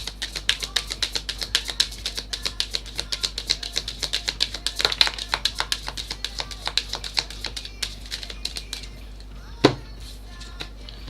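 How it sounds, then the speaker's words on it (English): Rapid, light clicking and riffling taps in a steady patter of tarot cards being shuffled close by, with one sharper snap near the end. "I want another shuffle."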